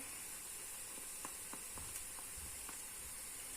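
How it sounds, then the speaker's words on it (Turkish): Tomato paste sizzling in a pan with sautéed onions, a steady soft frying hiss with a few faint crackles and pops, quiet and continuous. "Biraz da salçamı bu şekilde kokusu çıkana kadar kavuracağım."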